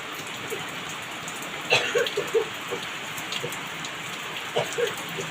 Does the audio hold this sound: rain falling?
yes